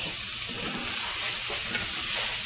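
Pork stirred in hot bacon grease for a spicy shredded pork stir fry gives a loud, dense, continuous sizzle with a constant hiss, close up and steady, with no talking.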